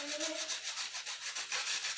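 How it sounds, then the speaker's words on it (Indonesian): Sandpaper rubs rough edges of freshly cut gypsum molding in quick, rhythmic back-and-forth strokes, close and fairly soft, with no talking. "kita amplas dulu yang kasar-kasar"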